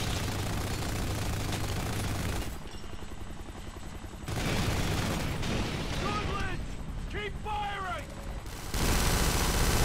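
Machine gun fire and battle noise in the video game Kane & Lynch 2 come in dense bursts that drop away briefly and return, with a few higher squealing tones mixed in.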